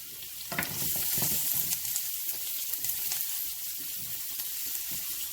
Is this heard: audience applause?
no